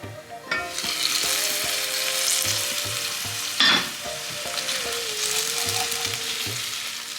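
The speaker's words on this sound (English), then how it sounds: "I just crushed it slightly with a spatula" Cooked ground beef sizzles steadily in a hot pan while a spatula presses and crushes it, with soft scraping knocks at intervals and one louder clatter midway, close and continuous throughout.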